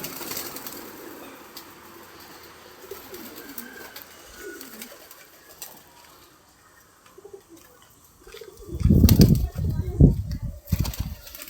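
Domestic pigeons near a loft take flight, their wings clapping and flapping loudly close by near the end after a quieter stretch of faint coos and ambient sound.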